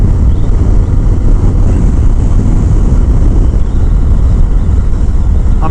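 Harley-Davidson Road King Special cruiser, a 2019 model, rolling along in sixth gear at about 65 mph and 2,500 rpm, its steady low engine drone buried under loud, continuous wind rush for the whole stretch.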